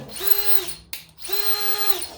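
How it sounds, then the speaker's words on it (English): A Ridgid sub-compact cordless drill whirs at high speed twice, each run a steady whine that spins up, holds, and stops, with a brief click between bursts. "And then the tiny little drill."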